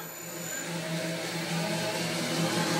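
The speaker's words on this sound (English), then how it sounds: "That's the sound of it running at about" A Vicmarc VL150 V2 wood lathe runs at about 130 RPM, giving a steady, even motor whir with a low hum and no speech, close and moderate in level.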